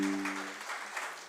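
Audience applause at an international university conference, a brief burst of clapping heard through a loud room, with a sustained tone fading out at the start.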